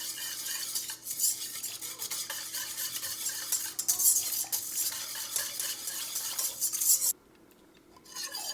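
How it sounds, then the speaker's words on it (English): Vanilla and butter stirred into thick keto caramel pie filling just off the stovetop, a steady scraping and clinking of a utensil against the pot for about seven seconds before dropping to near quiet, then resuming. "Mix this really well."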